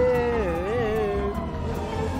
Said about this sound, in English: I hear those sirens! The sirens are closing in!